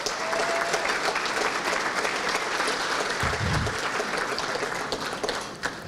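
Audience applause fills the room at the Hammond State of the City Address, attended by nearly 400 people: sustained, even, dense clapping that holds steady throughout, with a brief low thump partway through.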